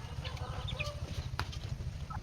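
Backyard pet chickens being fed wet feed, clucking steadily in soft overlapping murmurs close by, with occasional brighter calls over a continuous low farmyard rumble.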